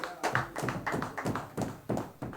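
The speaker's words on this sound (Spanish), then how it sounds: "Un aplauso para el Cóndor, por favor." A small group clapping for el Cóndor, a quick run of sharp, close claps in an uneven rhythm lasting a couple of seconds, loud and without talking.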